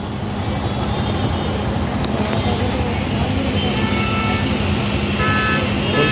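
Heavy jammed road traffic at Shilphata on a rainy day, heard from a motorbike: a loud, steady roar of idling and crawling engines close by, with a few brief high horn beeps near the end.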